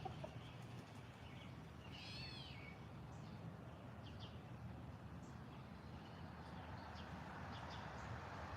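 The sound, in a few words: bird calling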